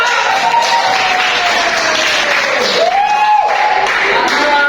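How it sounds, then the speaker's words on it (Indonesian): A class claps during a micro-teaching lesson on market economics, a loud, continuous burst of applause with some crowd noise and a faint tonal sound running underneath. "tepuk tangan buat pasar"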